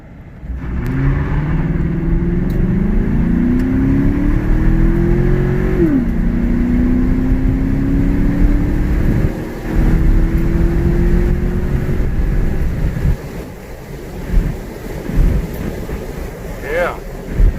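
A 2018 Chevrolet Silverado pickup fitted with an aFe Momentum GT intake accelerates hard in four-wheel drive, a loud engine roar climbing through gears with a shift near six seconds, heard from inside over wind noise before easing off.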